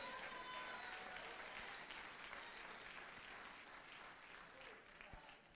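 A church congregation claps together in sustained, dense applause that stays loud and even for several seconds before easing slightly toward the end.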